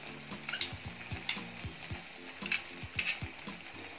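Crab pieces sizzle steadily while frying in a pan for a crispy Tamil-style crab roast, with repeated scraping and stirring clatter from a utensil close by throughout.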